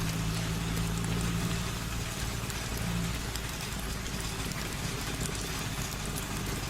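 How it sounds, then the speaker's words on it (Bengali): Steady, dense rain falls without pause, a constant hiss layered over a low rumble as if heard from inside a moving vehicle, with no voices. "এখন মনে হচ্ছে এই বৃষ্টি এত তাড়াতাড়ি ছাড়বার নয়"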